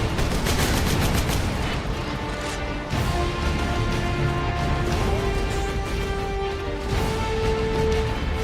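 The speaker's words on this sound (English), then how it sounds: "It's a plasma cannon." Plasma cannon fire in the game Warhammer 40,000: Space Marine crackles and booms in dense rapid volleys, loud and continuous, with synthetic tones humming underneath.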